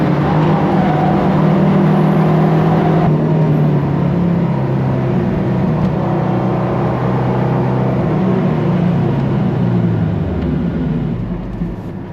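KTM X-Bow GT XR race car on a warm-up lap at the Nürburgring, heard from inside: a loud, steady engine drone with a droning low hum that shifts pitch and falls away near the end, with no talk.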